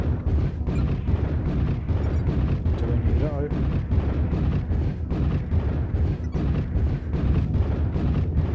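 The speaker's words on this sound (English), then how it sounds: "If everybody shoots at once," Mechs in MechWarrior Online firing weapons together in a 12-player team battle, a dense, continuous barrage of heavy booms and blasts, loud and close, with talk over it.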